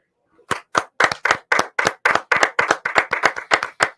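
Sharp, close claps ring out one after another in a steady, fairly quick rhythm, like a small handful of people or a single person applauding a bowling podcast's Bowler of the Week, with no talking over them.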